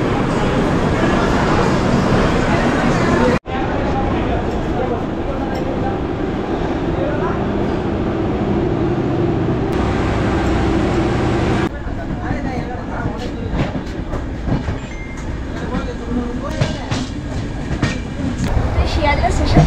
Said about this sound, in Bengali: ছেড়ে দিল আমাদের ট্রেন সঠিক সময়, ঠিক 10:15 সময় ছেড়েছে।